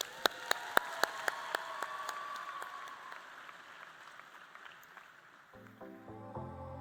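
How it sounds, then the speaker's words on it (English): Audience at an FFA state convention in Redmond, Oregon, giving a round of applause, heard as a few sharp, evenly spaced claps followed by faint, distant applause that fades under music starting near the end. "Let's give them a round of applause."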